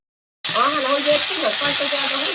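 Spices, chili, turmeric and salt hit hot oil for a drumstick kadhi tempering, a sudden loud, steady sizzle and crackle that starts abruptly and continues close up.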